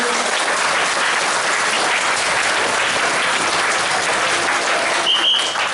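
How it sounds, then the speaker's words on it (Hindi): Thunderous clapping from a large crowd at a camp gathering in Bikaner, dense and even, sustained at full strength throughout with no voices rising above it. "आगे लिए जोरदार तालियां बजाओ।"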